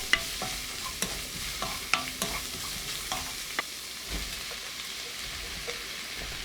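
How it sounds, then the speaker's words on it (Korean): Minced garlic, onion and carrot stir-fry over medium-low heat in cooking oil and perilla oil, making a soft, steady sizzle with repeated spatula taps and scrapes, close by and with no talking. "양파, 당근 넣어 20초 볶아요."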